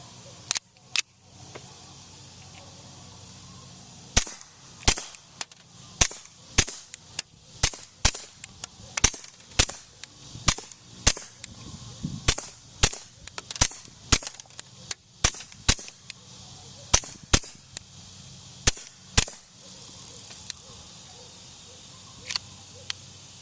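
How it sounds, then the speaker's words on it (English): Suppressed shots from a Walther P22 pistol fitted with an AAC Element 2 silencer, firing Federal ammunition: dozens of sharp, dry cracks in quick irregular bursts, each brief and distinct against quiet gaps. "I'm shooting the AAC Element 2 on a Walther P22"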